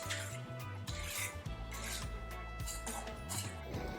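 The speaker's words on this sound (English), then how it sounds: "we're going to take some shoyu, a little bit of salt, and some green onions. Give that a mix" Diced ahi being tossed with shoyu, salt and green onions in a bowl, heard as soft close rubbing and scraping strokes in an irregular rhythm, quiet and without talk.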